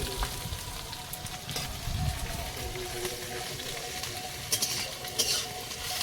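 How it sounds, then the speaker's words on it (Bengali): Cumin, chopped onion, garlic and grated ginger sizzle in hot oil while a utensil stirs through them, giving a constant soft frying hiss with occasional louder scrapes and pops, close up and without talk. "একটু নেড়ে চেড়ে মিশিয়ে এটাকে ভেজে নেবো"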